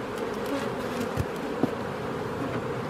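Honey bees from an opened hive buzz in a continuous drone, a dense close swarm hum with a few faint knocks, no voices present.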